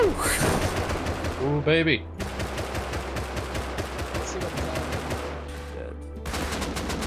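Bursts of AK rifle fire crackle in a Rust gunfight, rapid automatic volleys broken by short gaps, while a player exclaims briefly over the shooting near the start.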